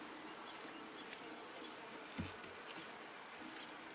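Honey bees buzz around a frame of honey and nectar lifted from a horizontal hive. A faint, continuous drone with small rises as individual bees fly close.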